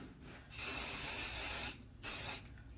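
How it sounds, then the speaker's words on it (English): Spray adhesive from an aerosol can misted onto embroidery stabilizer: two close, steady hissing bursts, the first over a second long, the second shorter after a brief pause. "Spray adhesive on my stabilizer."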